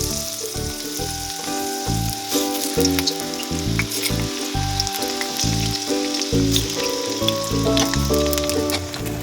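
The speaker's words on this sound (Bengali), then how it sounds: "তেলটা গরম হয়ে গেছে এখন আমি এর মধ্যে আলুগুলো দিয়ে দেবো ভাজার জন্য" Steady crackling sizzle of potatoes frying in hot mustard oil, close up, with occasional spatters and stirring, continuous throughout with no voices.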